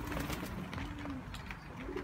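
Pigeons kept by a young pigeon fancier coo in soft, repeated throaty phrases close by, over a steady background hum with no talking.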